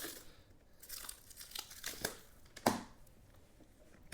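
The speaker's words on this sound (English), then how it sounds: "Let me loosen the plastic here." Plastic on a Nurzviy 40 amp J1772 EV charger being loosened by hand, faint crinkling and scraping with scattered soft snaps and one sharper crack midway.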